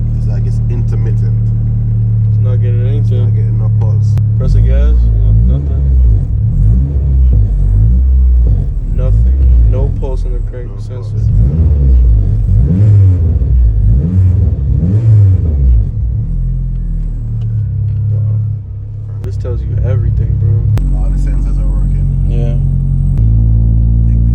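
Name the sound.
Honda Civic engine revving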